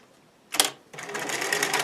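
A sewing machine runs a seam along the neckline of stretchy swimwear fabric, with a short burst of stitching followed by a steadier, longer run, close and moderately loud.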